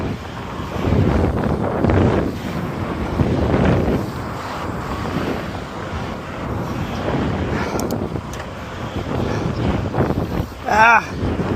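Strong headwind buffets the microphone during a bicycle ride along the Jeddah Corniche, a continuous loud low roar that surges and eases, with brief breathy sounds near the end.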